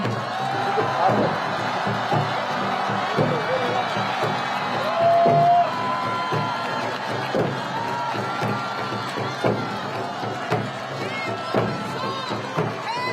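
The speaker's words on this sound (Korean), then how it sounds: "여러분 다시 한번 큰 박수를 부탁드리겠습니다" A large outdoor crowd at a Seoul election rally applauds and cheers continuously, with whoops and shouts, children's voices and a dense sustained roar that swells briefly midway.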